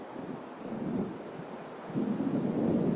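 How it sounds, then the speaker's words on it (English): Deep rumbling thunder of an approaching storm in Alan Wake Remastered, a low rolling roar that swells and builds again near the end, mixed with wind and surf-like noise. "It seems there's a storm coming."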